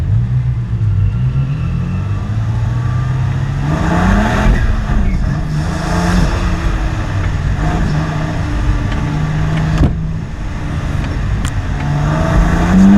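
BMW M3 driven hard on a race track, loud in-car engine drone rising and falling as it accelerates and shifts, with tire and wind noise and a few sharp knocks.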